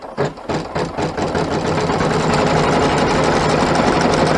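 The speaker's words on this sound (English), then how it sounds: "we then stitch out the last colorway" An embroidery machine stitches out the final colorway of a travel tissue pack cover in the hoop, a fast, steady mechanical whirring rattle that starts with a few distinct clacks and settles into a continuous hum.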